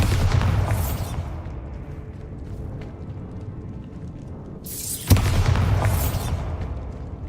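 The Bombarda spell explodes in Hogwarts Legacy, a loud game blast followed by a long, booming, rumbling decay. A second sharp burst hits midway and rolls out the same way, with no talking.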